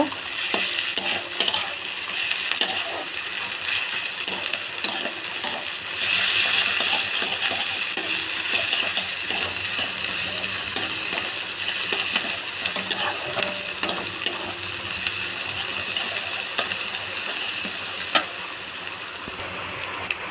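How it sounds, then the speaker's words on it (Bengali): Eggplant frying in a pan with onions and garlic paste, a steady bright sizzle running throughout, with occasional stirring clicks and scrapes and a brief louder surge of hissing partway through; no one talks. "বেগুনটাকেও ভালো করে ভেজে নেব"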